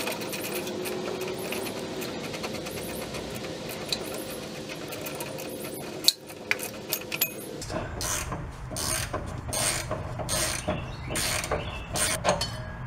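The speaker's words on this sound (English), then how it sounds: "I'm gonna go ahead and take this nut all the way off this bolt." A wrench spins a nut off a bolt on the rear shock of a 1995-2005 GMC Safari van: steady metallic ratcheting and mechanical clicking, close by, turning busier and louder in the second half, with no talking.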